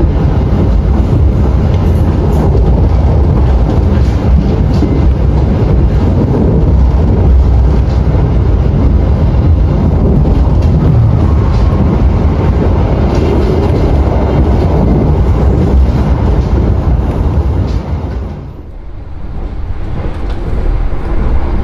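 A passenger train on the line east of Cikarang station rumbles loudly along the rails with a steady, heavy roar and rhythmic clatter, dipping briefly near the end.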